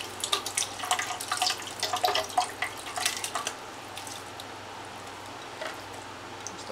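Water and shredded coconut pour into a blender, a close splashing and trickling that is busiest at first and then thins to a faint steady wash.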